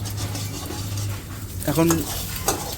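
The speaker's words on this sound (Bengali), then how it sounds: "আবার ডিম ভেজে দিচ্ছে।" An egg frying in a pan at home in a Bengali kitchen, with a soft steady sizzle and a few utensil scrapes and clinks, while a voice speaks over it briefly.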